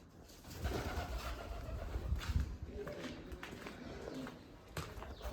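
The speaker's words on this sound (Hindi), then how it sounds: "इसमें अभी भी कबूतर है" Pigeons coo inside an old 90-year-old haveli in Kuchera that is being demolished, their low soft calls repeating through the space under a steady murmur, with faint scuffing steps nearby.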